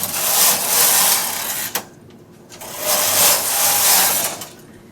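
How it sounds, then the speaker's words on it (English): A knitting machine carriage is pushed across the bed to knit rows, giving two long whirring sweeps separated by a brief pause with a click. "I want to knit 2 more rows."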